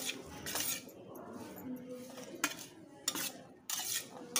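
A spoon scrapes and clinks against a pan while sweetcorn chaat with chaat masala is stirred, giving several distinct metallic strokes and taps over a quiet background, close and without speech.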